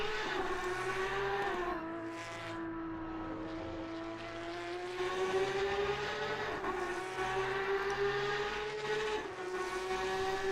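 Porsche Cup race cars lapping Spa in a sim racing game, a steady loud engine drone with rising and falling pitch as several cars pass close by, continuous throughout.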